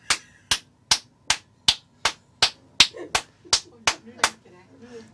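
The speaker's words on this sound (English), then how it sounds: "Please clap the amount of corresponding to your selected floor." Thirteen quick, evenly spaced hand claps select a floor in a clapping elevator, each crisp and close, with faint murmuring in the background toward the end.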